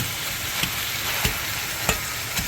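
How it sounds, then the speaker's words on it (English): Ground turkey sizzles steadily in a frying pan while a utensil breaks up the meat, with four soft periodic scrapes and taps over the constant close frying hiss. "now I'm gonna impatiently start breaking the meat up"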